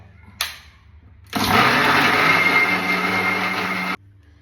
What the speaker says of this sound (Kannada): ಮಿಕ್ಸಿ ಜಾರ್ಗೆ ಸ್ವಲ್ಪ ನೀರು ಹಾಕ್ಬಿಟ್ಟು ರುಬ್ಬೇಕು